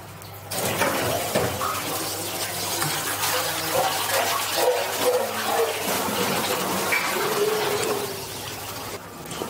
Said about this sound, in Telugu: నీళ్ళు సరిపోలేదు, మ్యాక్స్ నీళ్ళు ఎక్కువ వేసుకోవాలి మనం.